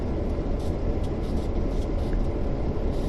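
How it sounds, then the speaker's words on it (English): A train pulling in on the Clinchfield Railroad Greenbriar Branch in Train Sim World 2 gives a loud, continuous, close rumble of rolling wagons with no pauses. "So there's got to be another train coming."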